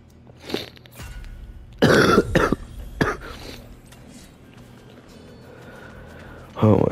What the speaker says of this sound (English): Even when I breathe, I cough.